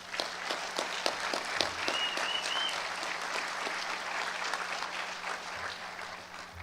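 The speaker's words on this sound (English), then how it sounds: "Please give our honor students one more round of applause." An audience at a high school graduation applauds honor students with steady, sustained clapping that fills the whole stretch at an even level, heard from within a large crowd.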